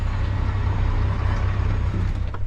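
A loud truck passes close by on a Texas road, its heavy engine giving a deep, constant rumbling drone that dominates throughout, with a brief hiss near the end; no one speaks.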